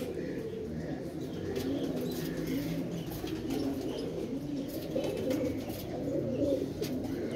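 Pigeons coo softly and continuously, low throaty calls overlapping in a steady murmur, with faint rustling in the background.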